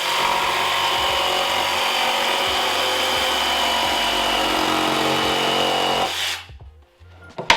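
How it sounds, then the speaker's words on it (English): A jigsaw cuts a wooden shelf board in a workshop, a loud, steady buzzing rasp for about six seconds that then stops, leaving faint handling clicks. "I know the jigsaw is not the right tool to use there"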